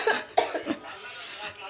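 A person coughs several times in quick short bursts at close range indoors, with a brief laugh-like sound mixed in.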